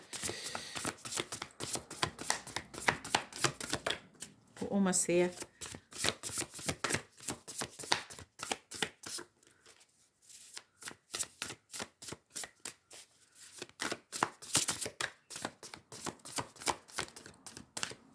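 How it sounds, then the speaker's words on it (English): Tarot cards get shuffled in quick, repeated riffling and tapping bursts, close to the microphone. There are brief pauses, and a person speaks a few words between runs. "Do we want to shuffle?"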